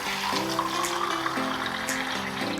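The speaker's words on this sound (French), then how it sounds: "Là c'est fou d'avoir de l'eau courante qui sort du robinet." Tap water runs from a bathroom faucet into a drinking glass while filling it for tooth brushing, a steady close pouring rush with a slowly shifting tone and no speech.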